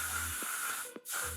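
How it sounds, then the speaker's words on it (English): Hairspray mists onto a styled layer of hair in short hissing bursts, two or three close sprays separated by brief pauses. "just give your second layer a little spray like so"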